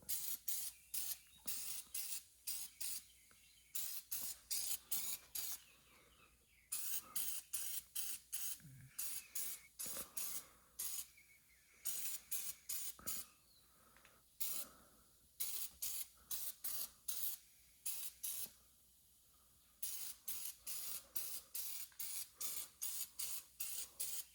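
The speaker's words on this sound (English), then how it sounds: "Here's a spray. Spray a good little coat or two on." Repeated short bursts of aerosol spray coating a Honda D16Y7 engine, hissing in quick pulses with brief pauses between, close and fairly loud, no talking.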